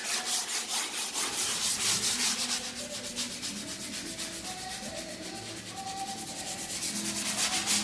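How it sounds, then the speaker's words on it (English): A sanding block scrapes back and forth over dried drywall joint compound on a cracked drywall repair, giving a steady, close, gritty rubbing that runs continuously without any talk. "then you sand on the edges, putting pressure towards the edge of the sanding block"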